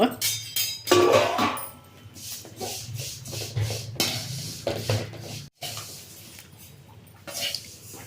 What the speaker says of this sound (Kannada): ನಾನು ಫಸ್ಟು ಬಾಣಲಿ ಇಟ್ಕೊಂಡು ಎಳ್ಳು ಉರಿಯೋಕೆ ಹಾಕ್ತೀನಿ